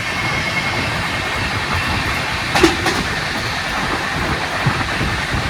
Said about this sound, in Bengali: ট্রেন এখন বেরোচ্ছে কাঁচরাপাড়া জাংশন।